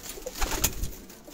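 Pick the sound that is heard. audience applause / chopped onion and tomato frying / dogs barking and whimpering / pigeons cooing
pigeons cooing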